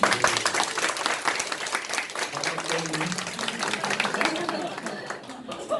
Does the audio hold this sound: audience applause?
yes